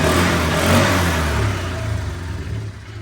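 A Polaris four-wheeler engine revs loudly nearby, then eases off into a lower, rougher running note.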